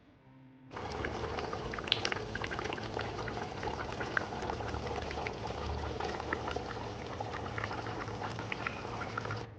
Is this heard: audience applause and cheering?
no